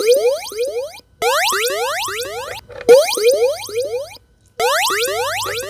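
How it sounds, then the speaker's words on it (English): Coin-insert sounds from a Burger Time arcade game play in three separated bursts, each a rapid cascade of bright rising electronic chirps, loud and clear with short silent gaps between. "what you're going to hear is 3 coins inserted"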